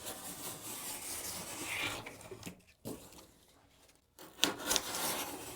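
A Demko Slicer 20CV knife drags through double-thick cardboard in rasping, scraping strokes, close and fairly quiet, with a couple of brief pauses between cuts.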